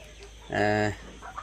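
Desi chickens on a farm fed black soldier fly larvae, one clear close cluck-like call rising over quiet background.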